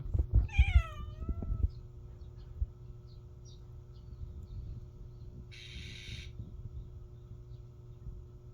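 A cat gives a few clear meows early on, close to the microphone, followed by quieter room noise and faint rustling.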